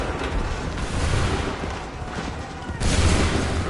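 Musket volley fire in Assassin's Creed 3, a dense, continuous rattle of many shots blending into a loud roar, with a fresh burst near the end.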